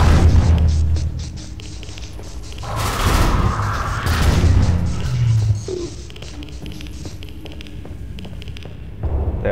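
Scattered gunshots crack through a Half-Life 2: Episode 1 combat scene, sharp irregular reports mixed with heavier booming impacts and crashes, moderately loud against a low background hum.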